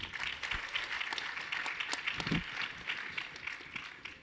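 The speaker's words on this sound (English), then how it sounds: "please give another round of applause to our judges and our finalists." Audience at a fintech startup pitch competition claps for the judges and finalists, a fairly quiet, distant patter of applause with a few sharper individual claps standing out.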